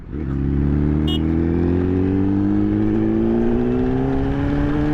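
A motorcycle engine on overrun above 6,000 rpm, with the fuel to the injectors cut off, sustains a loud, steady droning whine whose pitch rises slowly, with a brief faint tick partway through and no voices.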